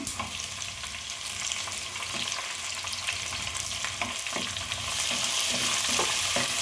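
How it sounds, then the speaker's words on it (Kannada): Onions hit a hot pan with urad dal and green chilli for a bitter gourd stir-fry, giving a steady, bright sizzle with light stirring that grows louder toward the end, with no voices. "ಈಗ ಈರುಳ್ಳಿ ಹಾಕ್ತೇನೆ"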